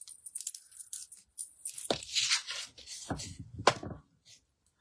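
Scissors cutting through card stock while making greeting cards, a few crisp snipping and rustling strokes close up, sparse and irregular, with paper handling between cuts.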